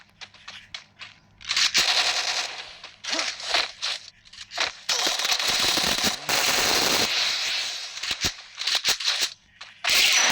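Video game gunfire comes in rapid automatic bursts of sharp, loud shots separated by short silences, close and dominant, with no talk.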